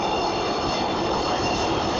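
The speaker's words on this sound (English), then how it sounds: "Here comes our train right now." A Pittsburgh light rail train pulling into a downtown station, a steady broad rumble with a high metallic wheel squeal running through it, loud and continuous, with no talking.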